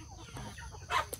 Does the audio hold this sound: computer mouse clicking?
no